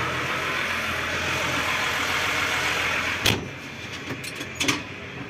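Tractor pulling an Odyssey field sprayer slowly through a flowering field: a steady engine drone runs throughout, followed near the end by several sharp clunks and rattles from the machinery.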